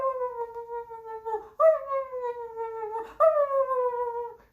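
A human voice imitates a dog's strange, unbark-like cry: three long, wavering, whining howls in a row, each rising sharply then sagging, close and clear with nothing else around.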